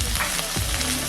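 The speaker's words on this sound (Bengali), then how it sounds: "এবার আমি এতে আলুগুলো দিয়ে দিলাম।" Potatoes go into a pan of lightly fried onions for ghugni, setting off a loud, close, continuous sizzle with a brief stirring scrape.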